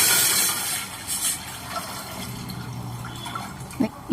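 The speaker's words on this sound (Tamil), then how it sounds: "2 சொம்பு தண்ணி விட்டுக்கலாம்." Water from a sombu pours into a cooking pot while toor dal sambar is being prepared, giving a steady splashing stream that gurgles and patters for a few seconds at moderate loudness.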